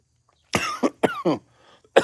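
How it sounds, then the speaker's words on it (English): Three or four harsh coughs in quick succession, close and loud, followed after a short pause by another single cough. "I had to cough there."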